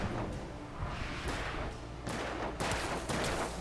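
Gunfire in the video game Alan Wake: a string of loud, punchy shots and thuds in quick bursts, with some shots louder than others, over a dense, noisy game soundscape and no clear speech.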